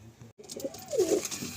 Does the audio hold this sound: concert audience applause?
no